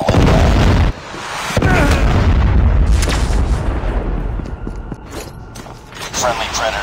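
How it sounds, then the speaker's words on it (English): In Call of Duty Mobile, a Predator missile strike lands as a loud, heavy explosive boom with a rumbling aftermath, followed by continued blasts and rattling gunfire-like bursts across the battlefield. "Hostile Predator missile inbound."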